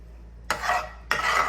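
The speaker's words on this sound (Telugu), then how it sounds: "అది వేసే ముందు ఫస్ట్ మనం పచ్చిమిరపకాయ ఉల్లిపాయ వేద్దాం" Green chili and onion drop into hot oil in a pan, setting off two sudden bursts of sizzling that flare up sharply and keep hissing, close and loud.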